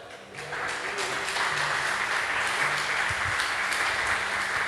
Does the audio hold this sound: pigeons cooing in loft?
no